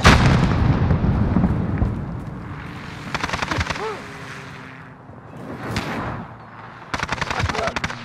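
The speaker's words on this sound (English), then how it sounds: "Allied cruise missile away." An allied cruise missile strike lands in Call of Duty: Modern Warfare, heavy booming impacts and crackling bursts rolling across the clip, with sharp gunfire volleys near the end and voices talking over it.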